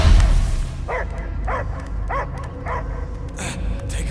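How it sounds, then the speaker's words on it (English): A large dog-like creature in the action video game Guardians of the Galaxy barks five or six times in a steady rhythm over low background rumble and game ambience, close and fairly loud. "I hear only barking."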